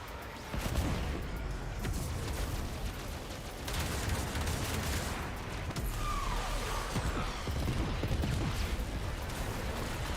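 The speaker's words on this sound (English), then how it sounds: "Torpedoes armed and dispatched" Torpedoes fire from a Railjack ship in Warframe space combat, a dense, loud barrage of blasts and whooshing rumble that runs continuously for the whole stretch.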